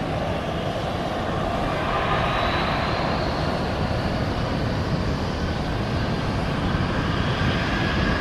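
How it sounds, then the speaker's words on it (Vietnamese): A large Ilyushin IL-76 cargo jet begins its takeoff roll at a Saigon airport, heard from a nearby cafe as a steady, loud broadband jet roar with a rising whine, continuous throughout and without speech. "Và chiếc IL-76 đã bắt đầu chạy đà để cất cánh."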